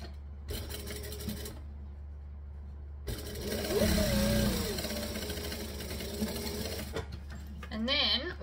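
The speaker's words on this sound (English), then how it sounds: "we're just going to stitch that together. Stitch, back stitch." A sewing machine stitches and back stitches a bag in bursts of fast mechanical whirring, close and steady, with a person talking between and over the runs.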